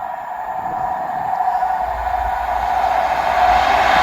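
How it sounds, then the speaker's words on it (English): ScotRail passenger service from Aberdeen to Edinburgh running through Monifieth station, a loud, steady rumble and rolling roar with a rising low drone and metallic ring from the wheels, close by and without talk. "Passing through now is the 1458 Scotrail service from Aberdeen to Edinburgh"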